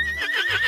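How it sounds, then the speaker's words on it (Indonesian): A horse whinnies in one short, wavering, high-pitched call, close and loud, with a faint low hum underneath. "ternyata ini hewan kuda"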